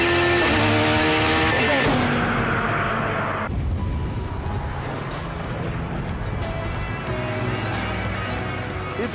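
Caparo T1 supercar accelerating on a road, its engine loud and close as the rear tyres fight for grip, with a gear change partway through and a sustained rough roar after.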